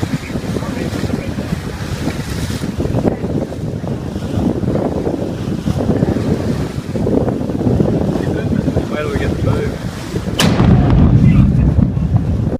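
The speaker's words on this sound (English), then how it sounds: "this volcano exploded in Papua New Guinea and it created a huge shockwave" Volcano eruption in Papua New Guinea sending out a huge shockwave, heard as a sustained loud rumbling roar with wind buffeting, building to a sharp blast near the ten-second mark followed by heavier low rumble.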